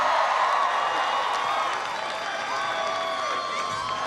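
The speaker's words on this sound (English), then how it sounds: "Can everybody please give Patrick a big round of applause for that great introduction?" Crowd at a Philadelphia campaign rally erupting in applause and cheering, a loud, sustained roar of clapping with shouts and whistles layered on top.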